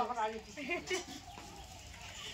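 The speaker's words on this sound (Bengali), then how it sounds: "মুরগি গলা।" A chicken clucks in a short burst of nasal calls, nearby and fairly quiet, followed by faint background noise.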